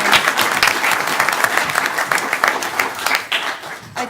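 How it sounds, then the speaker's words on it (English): Clapping fills a city council chamber as the audience applauds an award recipient, a steady, moderately loud wash of many hands that continues throughout without a break. "Can we clap for her one more time?"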